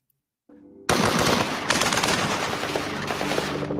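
Sustained automatic gunfire in a police shootout with armed robbers in North Hollywood, loud, dense rapid bursts following a brief low rumble, with no talking.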